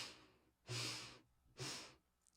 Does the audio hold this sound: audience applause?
no